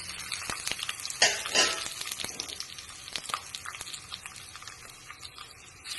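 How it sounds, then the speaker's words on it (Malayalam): Curry leaves and red chillies hitting hot coconut oil with mustard seeds and fenugreek, a sharp burst of crackling sizzle that flares up and then settles into a steady close frying hiss with scattered pops. "പിന്നെ കുറച്ച് കറിവേപ്പില ഇട്ട് കൊടുക്കുന്നുണ്ട്."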